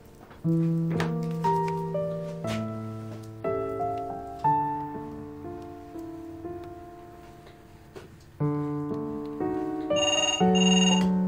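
A phone ringtone plays as a repeating melodic tune of clear chiming notes, steady and close, with no talk over it, while a call to a family member is being placed.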